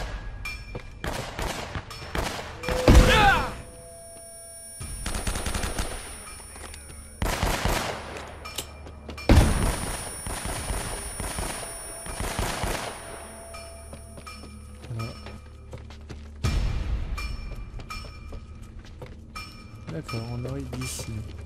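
Gunfire in the PS3 action game Uncharted, bursts of automatic shots and single cracks scattered across the scene, loud and close, with a voice talking in between.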